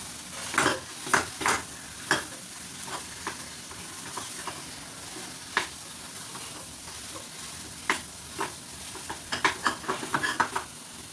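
Potato stuffing for aloo paratha is stirred in a pan, with a spoon scraping and tapping the pan at irregular intervals over a light, steady sizzle, close and moderately quiet, with no talk.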